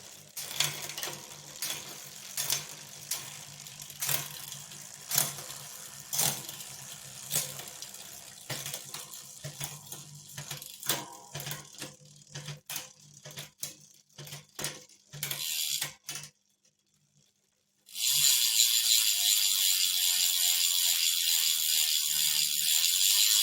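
Rapid mechanical clicking and ratcheting of a Shimano Sora R3000 bicycle shifter on a repair stand, close and crisp in bursts, then a short pause and a steady hiss of rushing noise.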